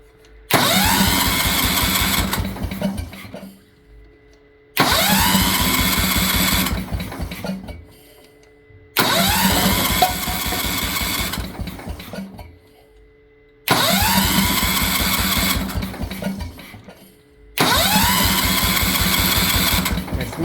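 A Kohler K241 10hp single-cylinder small engine, sealed with Teflon tape, runs in five loud bursts of roughly three to four seconds each, cutting out to near silence between them, with a steady mechanical rattle throughout each run.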